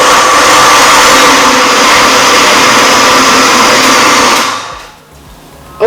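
Kitchen blender grinding tigernuts with water into tigernut milk, a loud, steady whirring motor roar held close for several seconds before it winds down and cuts off.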